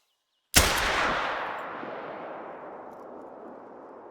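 A hunting rifle fires once in theHunter: Call of the Wild, a sharp loud crack followed by a long rolling echo that fades slowly over several seconds.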